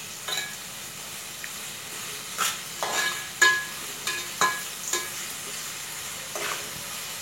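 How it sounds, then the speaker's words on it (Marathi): Onions frying in oil with a spoonful of salt for a Gatari special mutton dish sizzle steadily up close, broken by repeated sharp scrapes and clatters of stirring in the pan, with no talk. "कांदा गुलाबी रंगाचा होईपर्यंत परतून घ्यायचा."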